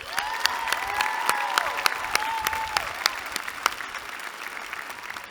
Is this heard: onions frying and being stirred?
no